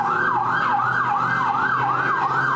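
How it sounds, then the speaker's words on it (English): A wailing ambulance siren sweeps up and down in a rapid, repeating cycle, fairly loud and continuous over a low traffic rumble. "should we wait for the ambulance to pass?"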